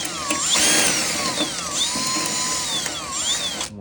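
A drill spins a small ground-flat junk bit inside a weld hole in steel on a 1979 Ford F150 cab, whining in rising and falling sweeps as it bites and eases, close and loud.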